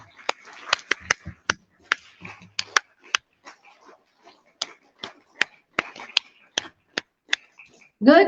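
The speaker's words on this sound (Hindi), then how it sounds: "पंचताली बजा के एक बार वेलकम करें" A group of schoolchildren at a school Harela event claps a five-clap welcome rhythm in sharp, close bursts, the claps repeating in quick clusters with brief pauses, and a voice briefly speaks at the end.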